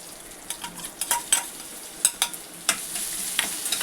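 Chopped green chillies and ginger-garlic paste sauté in hot oil, crackling and sizzling steadily while a spatula scrapes and stirs the pan in irregular strokes.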